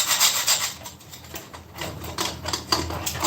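Food being rubbed on a hand grater with a broken handle, held from the side; a close series of irregular scraping strokes in quick bursts, each grating pass rough and rasping.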